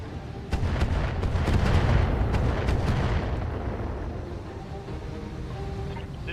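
Missile fire from mechs in the BattleTech video game, a dense loud barrage of rapid launches and booming impacts that rumbles on and slowly tapers off.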